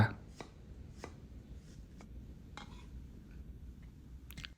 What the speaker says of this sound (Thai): หอมแดงบุบบุบพอ แตกนะครับ